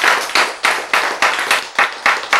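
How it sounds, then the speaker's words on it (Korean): A church congregation clapping at a sermon, a handful of loud, evenly spaced claps in a steady rhythm, close by and with no talk over them. "박수 안 칠래요?"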